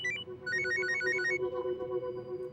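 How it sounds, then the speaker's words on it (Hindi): A phone rings with an incoming call, a bright repeating ringtone melody that plays clearly for over a second before cutting out, leaving a low steady hum and room tone behind. "अम्मा का फोन आ रहा है"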